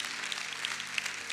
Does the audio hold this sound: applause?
yes